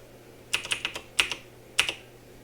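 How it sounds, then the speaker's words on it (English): Several crisp computer keyboard key presses, including the delete key, come in small clusters of clicks at close range, with quiet gaps between them. "just hit delete on my keyboard"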